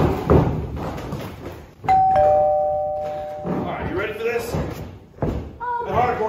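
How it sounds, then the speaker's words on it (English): Ring bell at a hardcore title wrestling match, struck twice as a sharp ringing clang, heard amid crowd noise and loud voices. "Just ring the bell, let's go."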